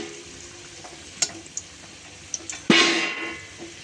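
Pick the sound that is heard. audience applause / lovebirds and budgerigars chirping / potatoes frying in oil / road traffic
potatoes frying in oil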